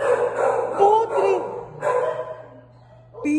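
Several dogs bark repeatedly in bursts inside a filthy, abandoned house, fairly near and loud, with brief quieter gaps between volleys.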